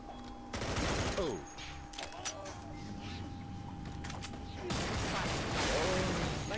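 Pistol fire in The Showdown Effect video game: a burst of rapid shots near the start and another toward the end, loud and close over mechanical game noise.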